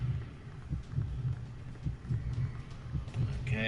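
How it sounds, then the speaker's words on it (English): Heartbeat thumping in the video game White Day, a steady run of soft low double thuds repeating under a faint hum, muffled and close, with a brief higher tone near the end. "You can hear my heartbeat thumping in my chest as I run out of breath."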